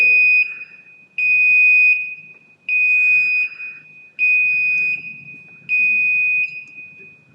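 A loud electronic generator alarm buzzer sounds in five repeated pulses of about a second each, a piercing steady tone with brief gaps between.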